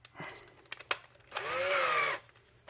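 A power drill set to low clutch drives screws on the transmission of an RC Slash truck, giving a short whir with a couple of brief taps, then a steady whine of about a second that cuts off.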